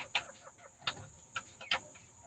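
Broiler chickens on a farm in Kwilu, Democratic Republic of the Congo, clucking in four short, sharp bursts spaced across a few seconds, fairly close and with no talking.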